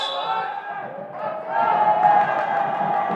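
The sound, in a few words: crowd noise at high school basketball game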